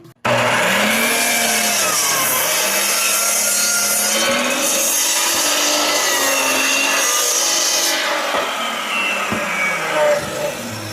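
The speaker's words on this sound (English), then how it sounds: "There you go, a little sandpaper, that's how you get across." Hand sanding across the edge of a hardwood countertop with sandpaper, a steady raspy rubbing that runs close and loud without break for the full stretch, under a faint hum.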